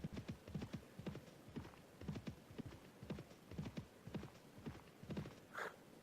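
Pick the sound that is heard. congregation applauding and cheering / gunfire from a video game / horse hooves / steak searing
horse hooves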